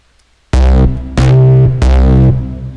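Synth preset notes from the Pilcher Plug Synth in FL Studio, three loud, bright harmonic stabs in a steady rhythm, each sustaining briefly before the next, with no talking.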